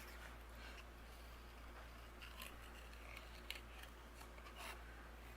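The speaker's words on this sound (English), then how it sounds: "take some scissors, and we are going to fussy cut each one of our elements out" Scissors snipping around stamped paper elements, a series of faint, close, irregular cuts and paper rustles over a low steady hum, with no talking.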